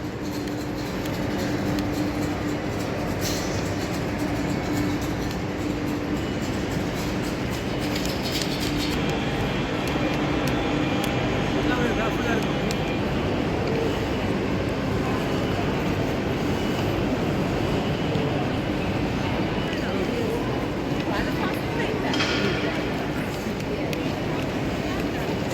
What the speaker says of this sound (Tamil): ஹை ஸ்பீட் ட்ரெயின் இருக்குது இங்கால.